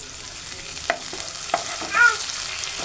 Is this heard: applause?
no